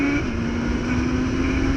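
Engine of a BMW Carbon S1000RR sport motorcycle runs at a steady, loud, close drone with a sustained hum, during a shakedown test before laps.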